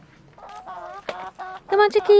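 Chickens cluck and squawk in a quick, uneven run of calls as they are let out on a homestead, growing louder and more insistent toward the end, close by and with no one talking over them.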